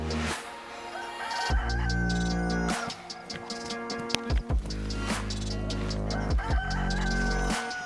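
A chicken in the video game DayZ, on a frosty Livonia map, crows loudly and clucks in repeated bursts nearby, with sharp clicks and thuds scattered between the calls.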